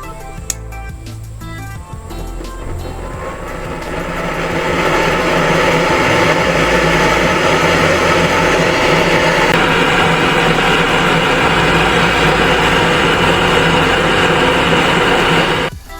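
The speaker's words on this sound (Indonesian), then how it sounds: "saya membuat sebuah kompor dengan api yang super panas dengan memanfaatkan kaleng cat bekas" A homemade waste-oil stove built from an old paint can roars with a steady, loud flame. The sound builds over the first few seconds, holds constant, then cuts off abruptly at the end.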